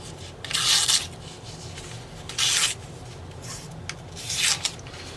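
Pocket knife blade drawn across a sharpening surface in three separate rasping strokes, each about a half-second long, close and fairly clear over a low steady background hum.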